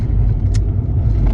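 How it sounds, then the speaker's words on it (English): A small VW Golf, left abandoned in a field for seven months, rattles and rumbles along a road with steady, close low-frequency road and engine noise throughout and one brief higher clatter midway. "I'm in the little Golf. It's not convertible weather, and it's certainly rattling down this road"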